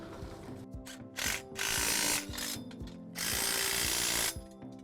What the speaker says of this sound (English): We'll have to use a 3/4 inch box wrench to tighten these nuts up.